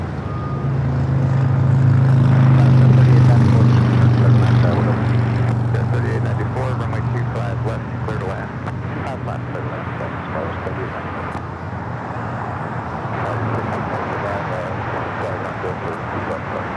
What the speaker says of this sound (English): This is American Airlines Flight 2321. That's very late. Scheduled departure 12:40. Just took off right now.